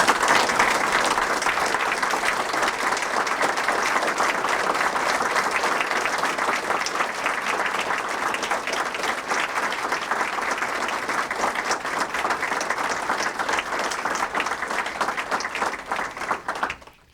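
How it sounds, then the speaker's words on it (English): Guests at a Founders Day dinner applaud in a long, sustained round of clapping from a large crowd, thick and even throughout before cutting off abruptly at the end. "ask you to stand and receive the applause of all your good"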